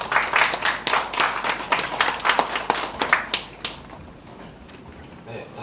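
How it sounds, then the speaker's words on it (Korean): Audience at an academic education conference clapping as two presenters are invited up, a sparse, uneven run of distinct claps from a modest crowd that thins out after about three and a half seconds into quiet room tone. "박수로 모시겠습니다"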